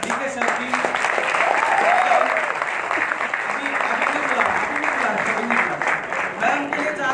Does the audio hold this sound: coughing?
no